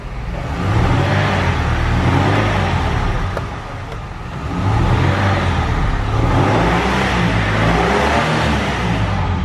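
The engine of a 1989 Ford Thunderbird LX revs up twice in smooth, loud swells with a brief settle to idle between them, heard close and with no talking.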